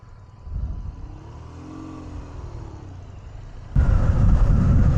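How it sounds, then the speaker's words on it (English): A motorcycle exhaust burbles at idle, then rises sharply into a louder, rougher rumble near the end. "I can hear the burble of your exhaust from here."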